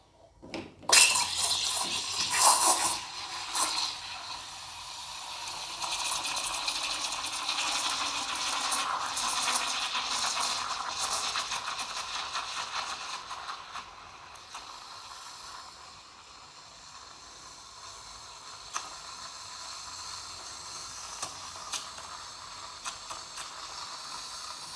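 Milk steaming through the four-hole steam tip of a Profitec Pro 600 espresso machine, a close, steady hissing and airy scratching that starts with a sharp burst and then settles into a continuous tearing hiss with occasional soft clicks.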